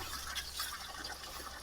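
Strong, steady rush of hot spring water flowing near a volcano in Pasacao, Camarines Sur, a dense continuous gush filling the whole clip with no talk over it.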